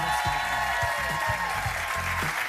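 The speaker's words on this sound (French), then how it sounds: "on peut applaudir quand même nos animateurs qui nous donnent extrêmement de liberté" A French television studio audience applauds the hosts in a brief, fairly soft burst of clapping with some crowd murmur and a voice underneath.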